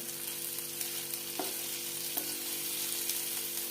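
Whole ridge gourd slices stuffed with masala cook in released oil, a steady, dense sizzle and hiss throughout, close and even, with a couple of faint clicks from the pan.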